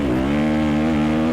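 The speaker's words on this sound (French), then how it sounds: "tu vas entendre le moteur s'emballer au fur et à mesure" A Sherco 300 motorcycle engine runs close by with a steady droning hum, its pitch creeping gently upward as the revs rise from very low.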